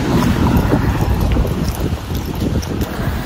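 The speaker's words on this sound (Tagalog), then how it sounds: "grabe ang lakas ng hangin." Strong wind roars and buffets the microphone with a loud, constant rumble that never lets up.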